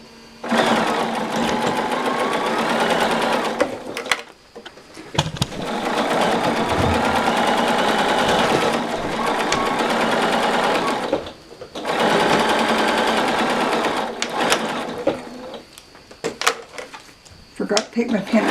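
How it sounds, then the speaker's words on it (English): A sewing machine stitches fabric a quarter inch from the edge, running in three sustained bursts separated by short pauses, close and loud, with a voice speaking briefly. "Now let's sew those on."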